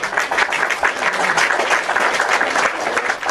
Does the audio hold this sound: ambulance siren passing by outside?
no